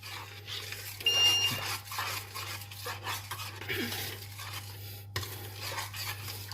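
A spoon stirs a sauce in a pan while making chicken Gaston Gérard, giving soft, irregular scraping and clinking under a steady low kitchen hum, fairly faint and with no voices.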